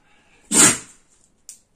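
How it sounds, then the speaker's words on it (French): A dog gives one short, sharp sneeze up close in a quiet room, then a faint snort follows a moment later. "Ah, excusez-moi, c'est le chien."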